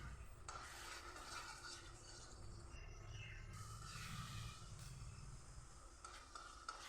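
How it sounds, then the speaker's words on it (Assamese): Spices being stirred and fried in a pan for chicken curry, a steady sizzle with scraping of a spoon against the metal running throughout, close and continuous. "ভালকৈ মিলাই ল'লোঁ।"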